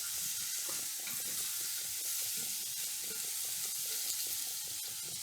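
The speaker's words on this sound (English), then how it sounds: "next we're going to add our squash. Give that a little stir so they're touching the bottom of the pan." Squash sizzles in a hot pan for chicken and rice soup, a steady bright hiss of frying with soft scraping stirs repeating throughout, close and even, with no voices.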